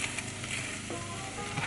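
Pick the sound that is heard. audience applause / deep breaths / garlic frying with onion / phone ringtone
garlic frying with onion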